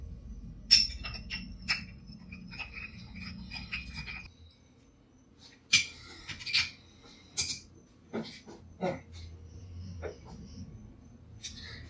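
A drink with peach schnapps and a large ice cube being stirred in a glass, giving scattered clinks and knocks of ice against glass, fairly close, with some faint background noise.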